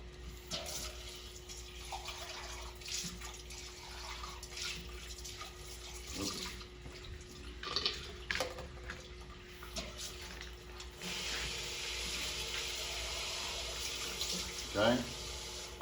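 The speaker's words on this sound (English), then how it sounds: "okay, I just take some water. Again, add by the outside of the beaker." Tap water poured down the inside wall of a glass beaker during a chemistry lesson, a steady low trickle lasting several seconds, faint and close, with brief bumps and clinks of handling.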